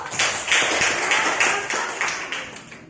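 A classroom applauding during a physics lesson on heat transfer, several seconds of steady clapping in loose rhythmic waves, fairly close and continuous before fading out.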